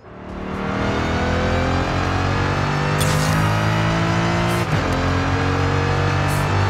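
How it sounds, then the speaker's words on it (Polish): A Corvette E-Ray fitted with a supercharger accelerates in Forza Horizon 5, its engine roaring up from a quick start into a loud sustained drone with rising tones and supercharger whine, a brief dip and blip near the end. "Teraz dodatkowo mamy jeszcze zainstalowany kompresor,"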